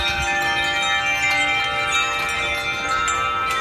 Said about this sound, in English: That's just a bunch of wind chimes, I guess, all hanging together and just seeming to be playing in harmony to one another, the different tones